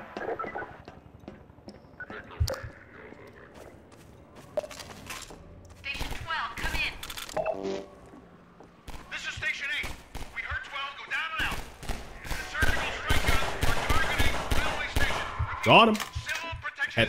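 Turret fire in the video game Half-Life 2 comes as rapid bursts and volleys of automatic shots, growing denser and louder toward the end, mixed with game effects and a player talking over it.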